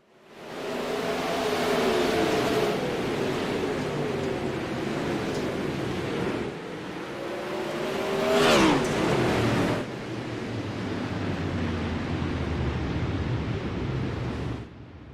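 Engines of 360 winged sprint cars in a racing video game at a virtual Lernerville Speedway, a steady loud racing roar with a rising whine near the middle, no talk.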